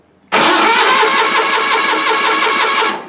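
Onan 20-horsepower engine on a tractor cranking as it tries to start, a steady loud mechanical churn lasting close to three seconds, then cutting off abruptly.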